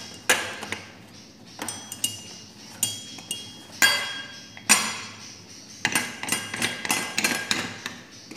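A metal pressure cooker lid being fitted and set onto the pot in a home kitchen, heard as a series of sharp, close metallic clinks and knocks spaced irregularly, some in quick clusters.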